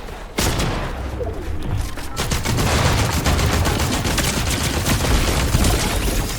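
Rapid automatic rifle fire and scattered shots crackle in a Fortnite Reload solo match, dense bursts of gunfire near and loud, continuing almost without pause from start to end.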